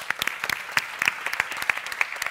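Scattered audience clapping at a science talk competition, a loose burst of individual claps with uneven rhythm, fairly close and moderate in level, thinning out over a couple of seconds.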